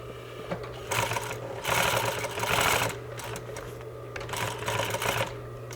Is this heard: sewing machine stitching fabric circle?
yes